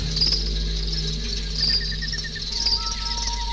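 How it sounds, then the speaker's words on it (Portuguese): Crickets chirp at night in the countryside, a dense, steady trilling chorus that runs continuously over a low background hum. "À noite no sítio, é o que você ouve: os grilos"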